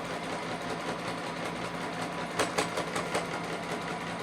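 A sewing machine runs steadily while stitching a quarter-inch seam in fabric, giving a quiet, even mechanical whir with a short burst of faster clatter partway through.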